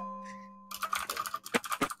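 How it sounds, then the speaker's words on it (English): Rapid clacking of keys on a mechanical keyboard, a burst of close, crisp keystrokes after a brief electronic tone at the start. "Mechanical keyboards. This is the good shit."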